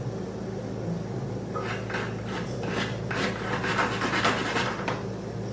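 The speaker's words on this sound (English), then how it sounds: "it's nice to use something like this flat-headed whisk to get around the corners of my pan" A flat-headed whisk scrapes and stirs a blonde roux around the corners of a pan, producing soft continuous rasping and rubbing strokes of moderate volume.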